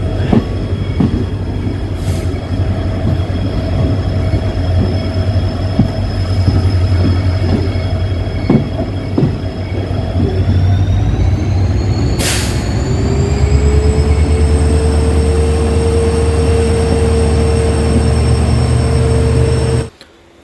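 A diesel locomotive-hauled passenger train pulling into Subramanya Road railway station, with a loud low engine rumble, rolling wheel clatter, a rising whine and brake squeal, heard close and continuous before it suddenly stops.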